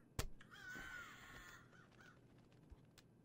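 Crows cawing in the Quadrilateral Cowboy video game, a few harsh caws with one long drawn-out call standing out over a low background hum, fairly close and clear.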